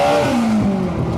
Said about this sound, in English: Dude, spinning those tires.